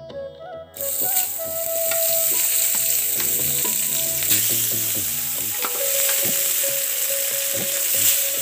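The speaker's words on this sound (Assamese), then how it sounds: "এতিয়া কেৰাহীখন পাতি দিলোঁ জুইতে মাছকেইকণ ফ্ৰাই কৰি ল'ব লাগিব" Fish sizzles and spits in hot oil in a kadai over a village fire, a loud, steady frying hiss that starts abruptly after a brief pause, with light stirring clatter and scrapes against the pan.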